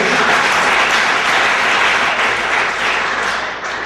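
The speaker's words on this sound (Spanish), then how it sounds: "Otro aplauso para el Señor." Church congregation applauding in praise of the Lord at a Templo Betel service, a dense, steady wash of many hands clapping for about four seconds, easing slightly at the end with no voices over it.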